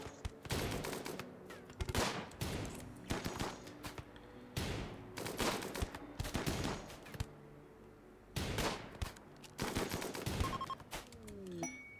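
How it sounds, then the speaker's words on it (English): Repeated volleys of gunfire from the RimWorld 1.6 colony game, bursts of overlapping shots and rapid fusillades recurring across the stretch with brief lulls between, loud and continuous, no talking. "I'm going to fire at will."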